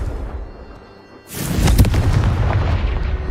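Confringo spell blast in the Hogwarts Legacy video game, a sudden loud boom after a quieter moment, followed by a sustained rumbling roar with crackling bursts.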